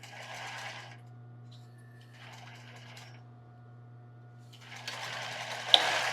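A sewing machine stitches an embroidered tulle bra in short bursts with pauses between, quiet and close against a steady low hum, ending with a louder run and a click.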